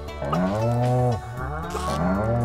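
A cow in Stardew Valley moos twice, long and loud and close by, with no other sounds around it.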